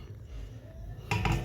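Metal lids clink onto dishes of cooked chicken and other home-cooked food in a kitchen, with a quiet stretch of room noise before one sharp clatter near the end.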